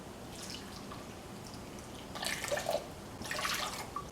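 Water is poured into a bowl of lemon pie filling mixture of sugar, flour and cornstarch, two short bursts of splashing and trickling, quiet and close, with no talking.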